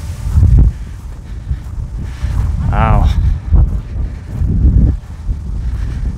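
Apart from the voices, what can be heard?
wind blowing outdoors at a distillery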